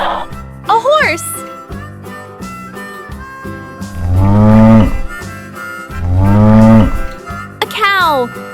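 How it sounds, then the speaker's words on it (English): A toy farm-animal puzzle bus plays a cow's moo: two long, loud lowing calls in the middle of the clip, with brief electronic toy jingles and a child-like voice before and after. "A cow!"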